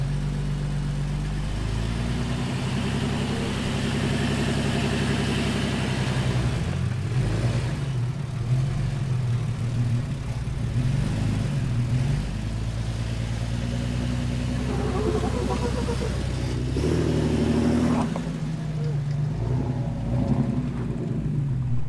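An off-road vehicle's engine drones continuously while driving over rough ground, loud and close, with the rumble shifting pitch as it labors and eases, plus occasional knocks and rattles from the terrain.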